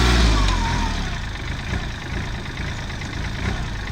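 A used Kubota tractor engine idles close by with a steady low diesel rumble, a brief heavier surge at the start settling into an even chug, no talk.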